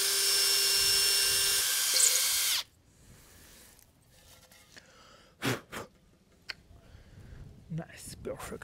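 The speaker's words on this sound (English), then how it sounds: "I'm using some drill bit for glass, I think, or for ceramic, and it works perfect" A high-pitched power drill fitted with a ceramic drill bit whines loudly for a couple of seconds while boring a hole, then stops, followed by quiet scraping and a few soft knocks.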